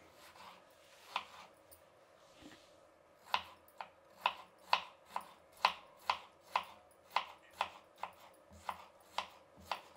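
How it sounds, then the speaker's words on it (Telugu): A knife slices cucumber into thin strips for kosambari, a steady run of crisp close chopping taps on a board, about a dozen evenly spaced cuts, with a few irregular knocks before. "ఇప్పుడు దీన్ని కట్ చేసుకునేస్తాము."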